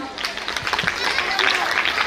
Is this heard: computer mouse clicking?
no